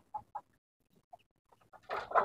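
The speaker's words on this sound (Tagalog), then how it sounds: "ipapakita ko sa inyo yung inahin ko na napakalaki" A large Shamo hen clucks in a yard, giving a few short, soft clucks followed by a louder burst of clucking at the end, close and with no talk.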